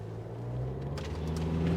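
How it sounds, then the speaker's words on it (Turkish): A Land Rover Discovery Sport 2.0 TD4 diesel accelerates at full throttle, its engine drone rising steadily in pitch and loudness from inside the cabin. "Bir dip gaz yapayım"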